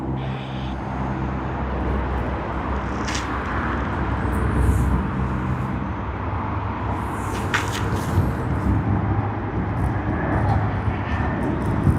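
An airliner on the Sydney to Canberra service takes off from Sydney Airport on a Friday evening, a sustained loud engine roar with rising whine and broadband rumble, plus a few faint clicks and distant chirps over it.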